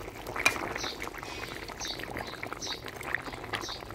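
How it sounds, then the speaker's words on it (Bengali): Fried fish pieces are lowered into a simmering Bengali fish curry with small potatoes and brinjal. A soft liquid pour and bubbling hiss runs steadily throughout, with a brief splash near the start and faint clinks. "ভাজা মাছগুলো ঝোলের উপরে দিয়ে দিলাম।"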